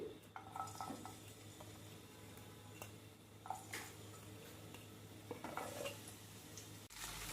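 Capsicum pieces, onion, small onions and green chillies sautéing in hot oil, with steady sizzle, stirring scrapes and a few clinks of a utensil against the pan, close and moderately quiet throughout.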